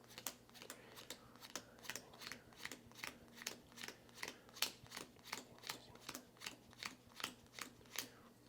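Room cards for the Castles of Mad King Ludwig board game dealt out one by one, about twenty crisp, soft card snaps in a steady rhythm, close and quiet.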